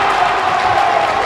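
Basketball crowd at a BUCS women's university game cheering after a steal, a loud, sustained roar of voices with some clapping, continuous and close.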